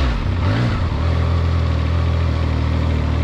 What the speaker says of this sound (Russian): Вот сейчас прям конкретно будет первый запуск.